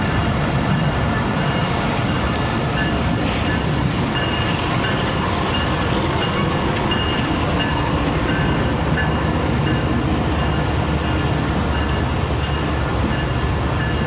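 Passenger train 14DN Awam Express running steadily, a continuous loud rumble and rattle of the carriages heard from on board, with no talk.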